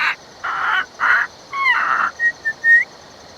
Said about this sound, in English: even the falcon here sounds exactly the same as a parrot